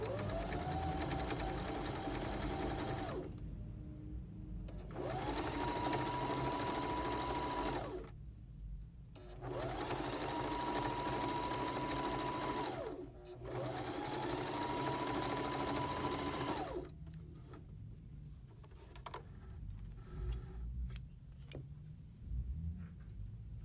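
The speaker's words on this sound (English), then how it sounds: "So I'm pulling on my ribbing and I'm going to go around this curve here." Baby Lock Zeal sewing machine stitching ribbing around a curve, running in four steady whirring bursts with short pauses between, then quiet handling sounds at the end.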